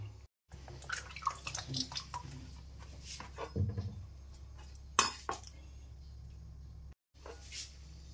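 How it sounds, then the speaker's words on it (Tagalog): Water runs and splashes as whole milkfish are rinsed in a basin, with soft clinks, drips and sloshing handling close by and brief pauses in the flow. "So hugasan ko lang to mga to, saka ito ihiwain ko yan."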